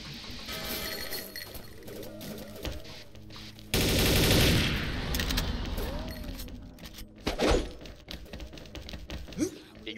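Bursts of automatic gunfire in the shooter game XSHOT, loud and close. A long, heavy volley sits in the middle, with scattered shots before and after, and voices talk throughout.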